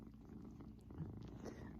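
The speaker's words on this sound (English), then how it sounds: "I feel her vibration of her purring." A cat purring up close, a low continuous rumbling vibration, soft and steady with no voices.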